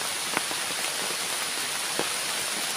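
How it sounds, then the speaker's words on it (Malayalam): Steady rain falling during a walk near rubber trees, a dense even hiss with a few sharper drops landing close by, no voices. "ഈ മഴയത്തിങ്ങനെ നടക്കാൻ നല്ല സുഖമല്ലേ?"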